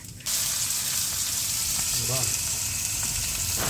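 Whole garam masala dropped into hot oil where potatoes have been fried, a loud sudden sizzle bursting in and holding steady and close, with a brief faint voice in the background.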